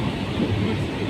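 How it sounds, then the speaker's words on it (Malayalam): A local passenger train running between Kannur and Kozhikode in Kerala, heard as a steady low rumble and rattle of the carriage throughout, close and continuous, with no voices. "ഇപ്പം നിങ്ങൾ കണ്ടത് ലോക്കൽ ട്രെയിനിൻ്റെ വീഡിയോ."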